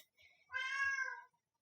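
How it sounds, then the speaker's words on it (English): A pet cat gives one clear, drawn-out meow close to the microphone, preceded by a few faint soft sounds, with quiet around it. "Can you hear him meowing?"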